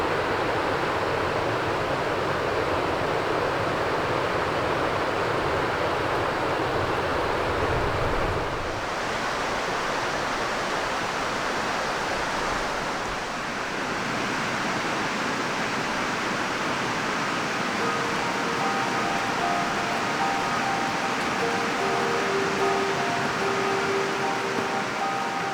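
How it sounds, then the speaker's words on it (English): A river roars in the distance along the Superior Hiking Trail on Minnesota's North Shore, a steady broadband rush of fast water that holds constant throughout, with no speech over it. "I could hear Split Rock River roaring in the distance"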